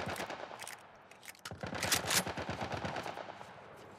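Enemy gunfire in the survival game The Last of Us, rapid automatic bursts of sharp shots rattling in fast rhythm, with a brief lull before a louder, denser volley, close and unbroken by speech.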